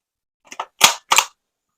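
An airsoft MP5 SD fires its last two rounds as two sharp, close cracks about a third of a second apart, preceded by a couple of faint mechanical clicks, in otherwise silent surroundings.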